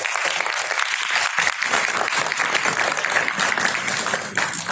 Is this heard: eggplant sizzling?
no